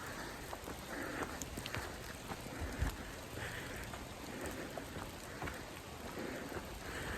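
Steady rain patters down in a forest in Washington State, a soft continuous hiss of drops on leaves and ground, with no voices.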